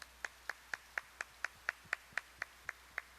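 Crisp hand claps at a Democratic Party Gwangju chapter rally, about a dozen in a steady, evenly spaced rhythm of roughly four per second, fairly faint against a quiet background.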